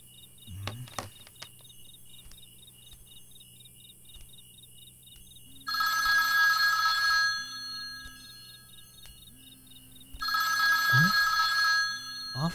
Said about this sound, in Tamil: ஆஃப் ஆன ஃபோன் ரிங் ஆகுது.